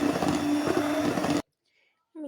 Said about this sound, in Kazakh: Енді жақсылап араластырамыз.